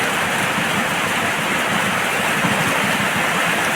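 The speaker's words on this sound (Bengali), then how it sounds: "ওই যে বৃষ্টি মানে যায় না," Heavy rain pours with large drops, making a loud, dense, unbroken hiss and patter that is close and steady throughout, with no voices.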